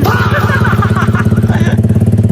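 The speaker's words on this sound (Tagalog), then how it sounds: "Katunog ng XRM namin!" Motorcycle exhaust compared to a Honda XRM, a loud, close, rapid pulsing putter that rises briefly then settles into a steady idle-like throb, with people talking over it.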